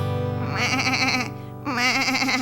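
A person imitates a goat in a children's song, two long, quavering, bleat-like vocal cries with a brief pause between, close and loud.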